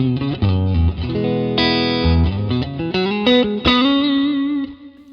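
An electric guitar plays chords and single notes through a Fender Deluxe Reverb tube amp on its clean channel, bright and sustained with a touch of shimmer, loud and close, without any talking.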